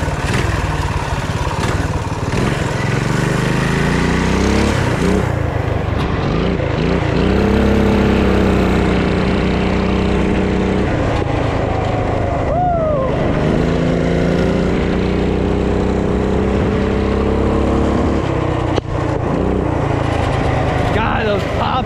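A small engine on an off-road drag minibike revs and runs hard, its note rising and falling through repeated throttle sweeps, with sharp exhaust pops crackling between pulls; people talk over it now and then.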